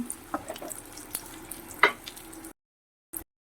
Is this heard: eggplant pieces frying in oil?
yes